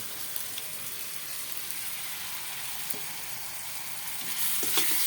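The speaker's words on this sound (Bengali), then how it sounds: "এখন এটা ভালোভাবে কষিয়ে নেব" A steady hiss of spices, green chilli, chilli powder, turmeric, coriander powder and salt, sautéing in oil for a fish curry, with a few faint stirring taps near the end.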